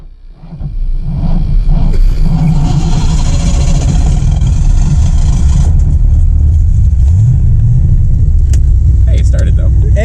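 An engine-swapped Mazda RX7 cranks and fires up, then settles into a loud, steady run with a rough rumble, while people talk excitedly nearby.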